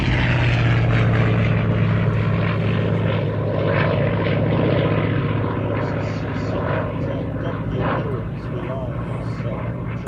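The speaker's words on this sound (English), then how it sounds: "we've got the Bearcat, and here it is" A Grumman Bearcat propeller fighter flies at a Navy Day air show, its engine a loud, steady droning roar that slowly fades as it passes, with someone talking over it.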